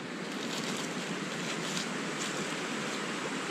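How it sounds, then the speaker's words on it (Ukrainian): A mountain river flows through forest in the western Gorgany range, producing a steady, close, broadband rush of water that continues unbroken with no voices. "Под шум річки"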